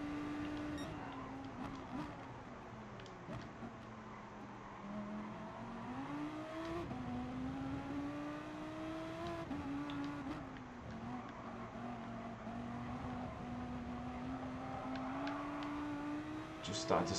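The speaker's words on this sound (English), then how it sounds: "The Group 4 Ferrari is awesome fun" Group 4 Ferrari race car in GT Sport, its engine note rising and falling steadily through gear changes as it laps the track, loud and continuous, with a voice talking over it.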